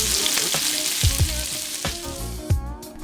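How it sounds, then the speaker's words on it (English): Steak sears in hot vegetable oil over high heat with butter, garlic cloves and rosemary sprigs, giving a loud continuous sizzle broken by a few sharp spits and knocks from the pan. "Heat some vegetable oil over high heat and add your steak."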